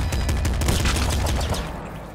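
A loud, continuous stream of machine gun fire from the game Nuclear Throne rattles on without pause, fast overlapping shots dense and close throughout.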